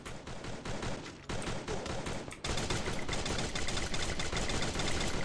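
Rapid bursts of gunfire from the video game Free Fire, a dense, loud stream of automatic shots that runs without a break and grows heavier partway through.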